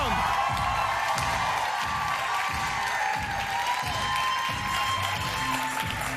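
Comedy gala audience applauds and cheers for a comedian's entrance, a dense, loud wash of clapping with a rhythmic thumping underneath throughout.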